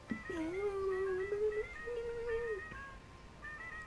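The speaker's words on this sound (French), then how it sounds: "C'est un bruit de chat qui miaule" A drawn-out synthetic meow from the video game Piggy, rising then holding steady, followed by a second shorter meow, over a faint background hum.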